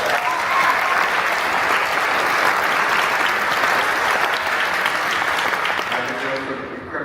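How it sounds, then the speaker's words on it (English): Sustained audience applause from a crowd at a talk honoring guests, steady and dense throughout, tapering slightly near the end. "If we can give them a round of applause."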